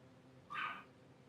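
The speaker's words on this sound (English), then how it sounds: "She is a Pomeranian, and she can only go super high, barking, squeaking." A small Pomeranian lets out one short, very high-pitched squeaky bark, a single brief yip against a quiet indoor background.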